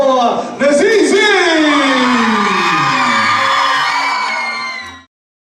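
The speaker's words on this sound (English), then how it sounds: "A very big round of applause for Nazizi!" A single loud, drawn-out whooping yell with a falling pitch, close and alone for about five seconds, greeting a challenger fighter from St. Albans as he comes out.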